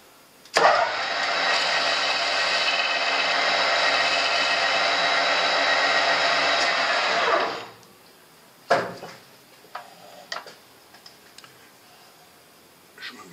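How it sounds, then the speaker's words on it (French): A metal lathe cuts a small chamfer on a part for a magnetic steering wheel puller, giving a steady, loud machining whir for about seven seconds before it stops, followed by a few sharp clicks and clanks. "je vais faire un petit chanfrein"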